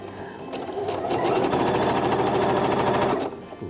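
A sewing machine runs steadily for about three seconds, closing a seam along a fabric edge, with a rapid, even stitching rhythm that starts and stops cleanly at close range.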